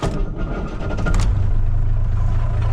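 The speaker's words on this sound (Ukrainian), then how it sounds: "Все, і машинка робить, вихлопна тільки знята." A Mercedes 814 truck engine runs with its exhaust removed, a loud, close, rough diesel rumble that builds slightly after a second and then holds steady, with no talk over it.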